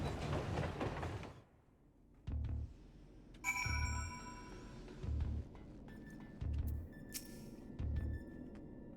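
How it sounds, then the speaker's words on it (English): A ghost train in a video game gives a short rumble, then a series of evenly spaced heavy thumps like wheels over rail joints, with metallic ringing and a bright whistle-like tone between them. "Ghost train."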